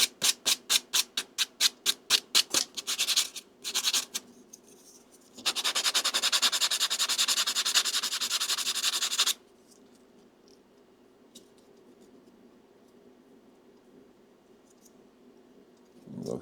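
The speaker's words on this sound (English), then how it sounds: "I'm going to take a sanding block and just get the tops of these" Close-up sanding of plastic with a sanding block: a quick series of rhythmic scraping strokes, then a long continuous rubbing stretch, followed by quiet.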